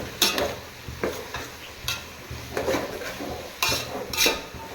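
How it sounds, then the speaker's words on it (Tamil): Brinjal and potato pieces stirred in a pan for a dry fish tamarind curry, with a steady sizzle and repeated clanks and scrapes of a spoon against metal, close by with no talking. "நம்ம இந்த காயெல்லாம் போட்டுக்கலாம் கத்திரிக்காய் உருளைக்கிழங்கு இதையும் ஒரு பெரட்டு பெரட்டிட்டு"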